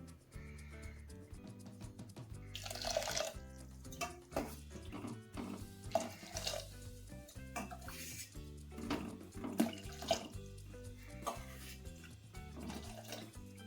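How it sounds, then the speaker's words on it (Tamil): Water pours steadily into a pot of lentils for ven pongal, with faint clinks of cookware, while music plays along in the background. "இப்போ நான் மூன்றரை டம்ளர் தண்ணி விடுறேன்"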